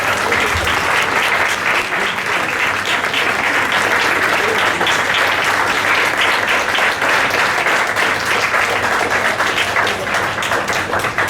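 Sustained, loud applause from a full audience of parents at a school investiture ceremony for its young student leaders, even and continuous throughout.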